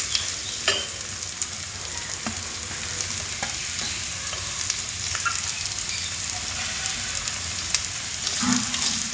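Onion frying in masala paste in a pan for a crab roast gives a loud, steady sizzle, broken by occasional spatula scrapes and clicks, with no voices.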